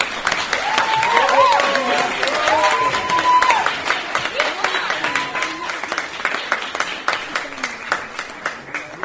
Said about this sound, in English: Let us give the warm round of applause for Yiore